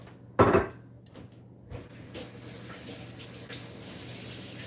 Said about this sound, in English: I'm going to go rinse my hands off